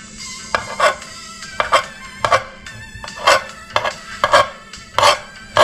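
A kitchen knife slices through red Vietnamese ham, giving a series of sharp, close cutting knocks in an uneven rhythm, about a dozen strikes in quick succession with no talking.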